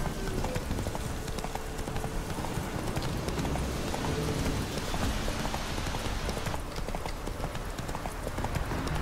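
Roach the horse gallops in The Witcher 3, a rapid steady clip-clop of hooves running continuously and fairly close, with soft rain-like ambience underneath.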